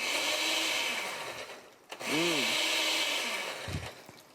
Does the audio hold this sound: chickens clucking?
no